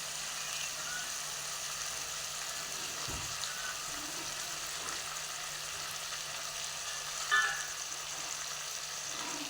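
Food frying in a pan in a home kitchen gives a steady, fairly quiet sizzle with an even hiss that runs the whole time, broken by one small clatter near the end.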